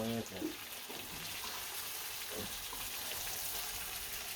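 Water pours into meat cooking in a pot as a steady, rushing, splashing hiss that runs through the whole clip, with a voice briefly heard at the start.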